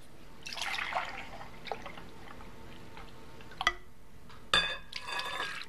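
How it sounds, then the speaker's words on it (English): Low-fat milk poured into a bowl of sugar-free vanilla instant pudding mix: soft liquid splashing and trickling up close, followed by a couple of sharp clinks and knocks of the container near the end. "Put the pudding in here, and you just need a cup and a half of a low-fat milk."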